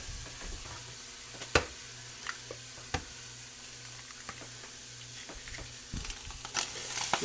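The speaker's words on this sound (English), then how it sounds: "this is sizzling it up quite nicely." Food for an omelette sizzles in a frying pan, a soft continuous hiss with occasional crackles and utensil taps, fairly quiet and close, no voices.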